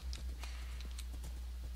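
A horse's hooves clip-clop in Minecraft, a quick irregular patter of soft hoof strikes over a constant low hum, close and moderately loud, with no speech.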